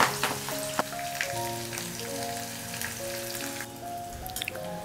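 Palak pakodi, spinach fritters, deep-fry in hot oil a few at a time, a close, soft crackling sizzle with scattered pops and drips while clear tonal music plays over the cooking.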